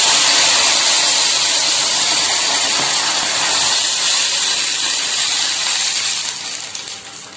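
Water poured into a hot pan while making rava upma, giving a loud, continuous hissing rush of steam that holds steady before tapering off near the end.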